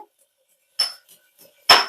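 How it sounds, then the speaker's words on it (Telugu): Garlic cloves pounded for tempering, likely in a stone mortar: a few sharp thuds with a metallic clink, two strong strikes and a couple of lighter taps, spaced irregularly and close by, with quiet gaps between. "నేనైతే ఇదిగో తాలింపుకైతే వెల్లుల్లిపాయలు దంచుతున్నానండి"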